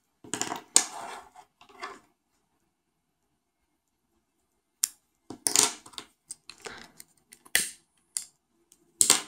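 Sharp snips of scissors cutting crochet yarn while working a beaded prayer cover, a few close clicks at the start, then a pause and a scattered run of quick cuts and handling noises, no talking.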